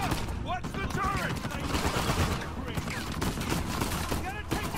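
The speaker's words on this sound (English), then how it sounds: "Oh, shit. Minigun." Minigun fire in the Uncharted 4 video game, a dense sustained rattle of rapid shots running continuously under game effects and voices, loud and close throughout.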